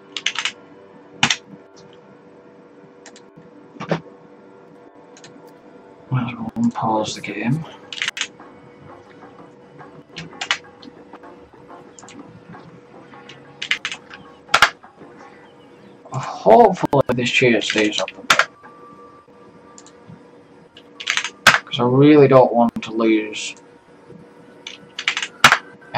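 Keystrokes on a computer keyboard resting on a knee, a scattering of soft clicks spread across the clip, heard under and between stretches of someone talking while playing a theme-park building game.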